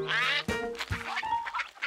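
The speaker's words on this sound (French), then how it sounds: "entouré de canards" Cartoon ducks quack on a pond, several bright nasal calls in quick succession, close and clear with no talk over them.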